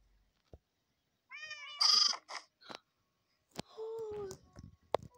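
A sheep bleats in a Minecraft game, giving a few short, fairly faint bleats with quiet gaps between them.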